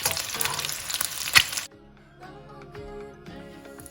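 Eggs fry in oil in a pan, a dense crackling sizzle up close for about a second and a half, then it drops away to a faint background with soft clinks.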